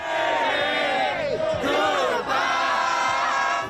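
A large crowd outdoors in the street chants and cheers together, celebrating Joe Biden's election as president, many voices rising and falling in loud, sustained shouts.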